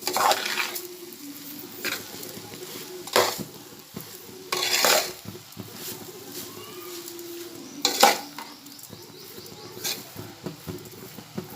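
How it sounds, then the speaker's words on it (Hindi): Spoon stirring sugar into a Konkani kobi (cabbage) mixture in a pan, with intermittent scraping and clinking of metal against the pot in short bursts over a quiet background, no talking. "अब मैं इसे अच्छे से मिक्स करूंगी।"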